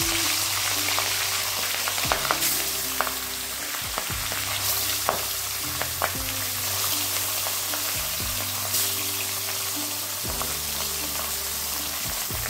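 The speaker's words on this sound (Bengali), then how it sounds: "এবার দিয়ে দেবো নুন মাখানো মাছ।" Steady, loud sizzling of salted fish frying in hot oil, with occasional scraping and clinks of a utensil against the pan; no talking.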